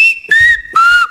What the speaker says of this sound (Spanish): Voy a silbar las vocales I, E, A, O.